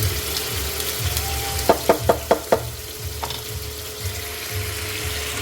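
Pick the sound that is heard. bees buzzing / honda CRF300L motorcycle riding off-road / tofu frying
tofu frying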